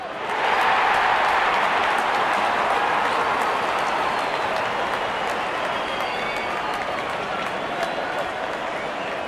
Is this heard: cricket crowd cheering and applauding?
yes